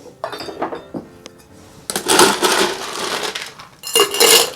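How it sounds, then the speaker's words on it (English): Ice dropped into a large metal cocktail tin for a blue drink, heard as clattering, clinking bursts of cubes striking metal in two loud spells, with quieter clinks between. "we're gonna add some ice to our big tin"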